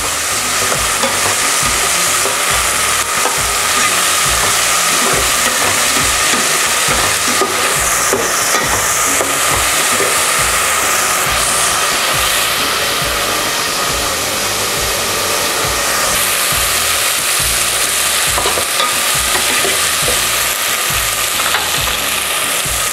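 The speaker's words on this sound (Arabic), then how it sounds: "نحمص الحمسة لين تذوب الحمسة شوي." Onions sauté in a pot as the base for chicken machboos, a loud, steady, close sizzle with continuous stirring throughout and no talking.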